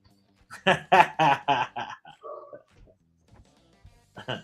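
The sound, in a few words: dog barking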